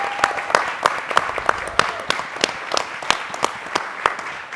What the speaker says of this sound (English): Give this crew a round of applause if the veterans.